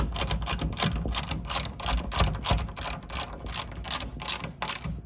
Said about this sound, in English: Let's get our center bolts started first.